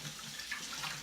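Tap water running steadily over apple slices in a strainer as they are rinsed, a soft continuous splashing hiss, close and fairly quiet, with no one talking.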